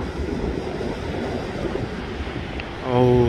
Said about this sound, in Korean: 파도가 아주 멋지게 칩니다, 여러분.